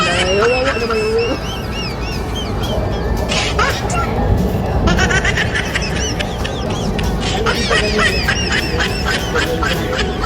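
A duck quacks repeatedly, close and clear, in short rasping bursts with gaps, while people talk and murmur around it.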